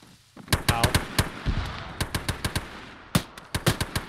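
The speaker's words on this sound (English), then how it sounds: "That might be artillery and mortars." Rapid bursts of gunfire and heavy battlefield shots, close and loud, cracking in quick irregular volleys, with a voice speaking faintly in between.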